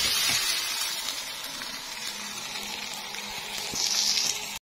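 Water poured into a pot of rice, a continuous rushing, sizzling wash that stays fairly steady and swells slightly near the end before cutting off, with no talking.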